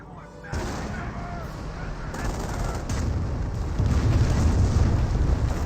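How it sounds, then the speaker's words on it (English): Calliope rocket barrage in Company of Heroes, a dense continuous roar of launches and explosions that swells louder over several seconds under a faint voice. "Calliope barrage raining on in"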